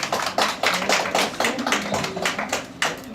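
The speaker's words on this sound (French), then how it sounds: "On applaudit la famille" An audience claps for a family at an evening awards event in Paris, giving a steady, fairly close run of overlapping handclaps with sharper bursts throughout, plus a few faint voices underneath.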